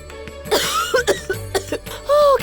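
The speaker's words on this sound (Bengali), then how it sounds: "কি কাশি হচ্ছে?" A person coughs repeatedly in a smoke-filled house, several short, rough bursts in an uneven rhythm, close and fairly loud, with a few faint background tones between them.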